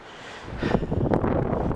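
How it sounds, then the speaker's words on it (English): Wind buffets the microphone in a low, steady roar that swells after the first half second and stays strong, with no voices. "Very, very windy here at the moment."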